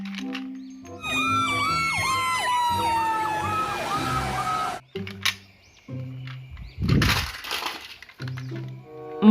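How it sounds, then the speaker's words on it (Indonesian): A fire truck siren wails in rising and falling sweeps for several seconds, loud and close, then cuts off and gives way to scattered mechanical knocks and a burst of broadband noise. "Mobil pemadam kebakaran."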